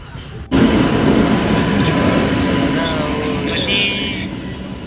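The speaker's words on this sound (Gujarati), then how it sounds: "હવે આવે છે રેલવે" A train rumbles past close by at a level crossing with a loud, sustained roar and rattling wagons, faint clacking and a high squeal near the end.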